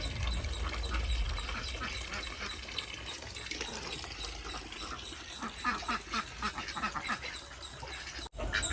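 Ducks quack beside a small bathing pond in a backyard setting. The calls come as a busy, fairly faint chatter over steady outdoor background noise, with no talking.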